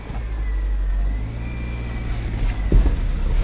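A 2000 Toyota MR2 rolls backward at a wrecking yard, its low engine hum and drivetrain whine steady and near, with a faint bump toward the end.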